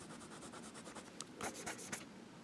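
A Baoer 801 fountain pen with a smooth nib writes on paper, very faint and close, a soft continuous scratching with a few brisker strokes toward the end and no talk.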